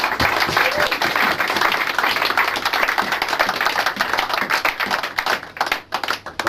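A church congregation claps together in a lively, dense burst of applause, close and loud, with individual hand claps standing out and thinning slightly near the end.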